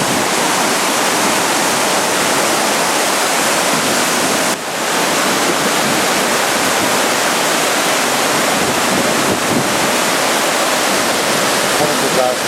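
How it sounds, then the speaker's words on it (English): A floodwater river rushing during Hurricane Irene in Suffern, New York, a loud, steady, close roar of churning water that runs unbroken throughout, with people speaking beneath it. "No, this is the river."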